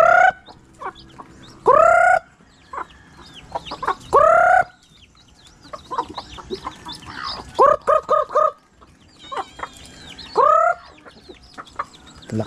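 Chickens and grown chicks clucking and squawking in a backyard flock, loud near calls in bursts with a softer chorus of clucks between them and no talk.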